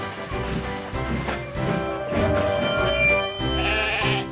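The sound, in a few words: sheep bleating, story sound effect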